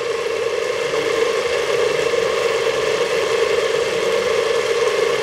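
An electric motor runs during an over-current relay trip test at 2.5 amps, a steady, unchanging mid-pitched hum and whir heard alone at moderate loudness.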